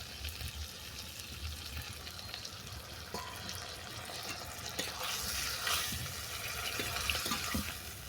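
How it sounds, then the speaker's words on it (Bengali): Water poured into a pot of fish-head and elephant-foot-yam-greens curry, a continuous low rushing splash that swells toward the end, fairly faint and close, with no talking. "এরপর দিয়ে দেবো পরিমাণ মতো জল"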